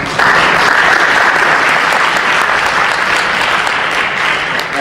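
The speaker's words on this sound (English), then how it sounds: "I ask you to please applaud our speakers" A conference audience at an international ageing symposium applauds its speakers, loud dense clapping that swells quickly and holds steady throughout.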